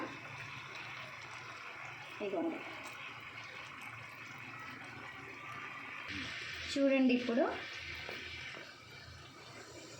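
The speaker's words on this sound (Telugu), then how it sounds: "వాటర్ బాగా బాయిల్ అయ్యాయి కదా" Water at a rolling boil in a rice cooker, ready for chitti muthyalu rice for chicken pulao, gives a steady close bubbling hiss for the whole stretch. A person talks over it in short bursts, with a few brief louder clatters.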